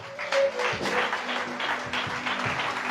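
Church congregation applauding and cheering during a French-language worship service, a dense sustained wash of clapping close and loud for the whole stretch, with a voice and tonal music faintly underneath.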